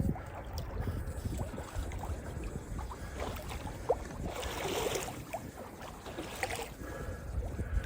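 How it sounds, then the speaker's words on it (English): Sailboat moving under wind on Watts Bar Lake, with water steadily rushing and lapping against the hull amid gusty wind noise for the whole stretch, and no talking. "We're sailing."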